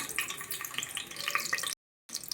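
Oil and a little ghee go into a pressure cooker, giving a steady close frying sizzle and hiss that runs without pause before cutting out briefly near the end.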